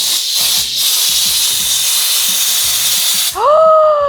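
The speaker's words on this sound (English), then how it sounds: "I would say that the steam is very intense." Steam cleaner gadget blasting intense pressurized steam onto oil-stained surfaces, a loud steady broadband hiss lasting several seconds, then a short rising whine as it cuts off.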